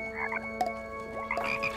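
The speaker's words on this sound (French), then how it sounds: "Et hop, une grenouille farcie au papillon." Cartoon frog croaks in an animated film, a few bubbly, warbling croaks up close over a faint tonal music bed.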